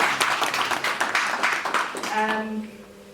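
A crowd applauds with dense clapping that tapers off after a couple of seconds, leaving a brief ringing tone at the end.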